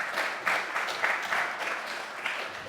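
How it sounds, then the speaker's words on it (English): An audience at a policy session of a conference applauds, a moderate, even burst of clapping heard from a short distance with slight swells in intensity. "Good round of applause."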